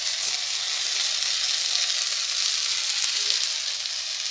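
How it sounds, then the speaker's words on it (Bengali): Fried lentil fritters go into a pan of fenugreek greens and boiled potato, which gives off a steady, even sizzle with no talking. "আমি এখন এই যে ডালের বড়াটা করে রেখেছি এটা এর মধ্যে ঢেলে দেবো"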